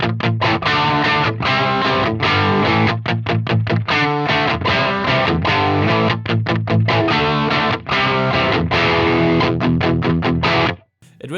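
A distorted electric guitar played through a 1978 Marshall JMP tube amp chugs out a loud, driving rhythm of palm-muted chords and brief stops, cutting off abruptly near the end.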